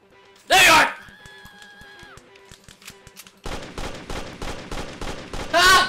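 Video game gunfire in The Amazing Frog: a loud burst at the start, then a rapid string of repeated shots crackling in steady rhythm, ending with another heavy blast, with a tonal game sound in between.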